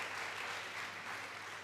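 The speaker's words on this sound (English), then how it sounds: "We all deserve a round of applause" Symposium attendees applaud, a soft continuous patter of many hands clapping, heard from a distance and fairly quiet throughout.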